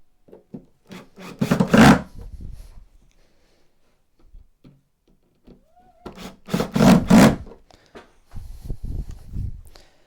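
Screws being driven into a wooden backboard on an N gauge model railway baseboard, two bursts of grinding, rubbing driver noise a few seconds apart, close by, with quieter handling sounds between and no speech.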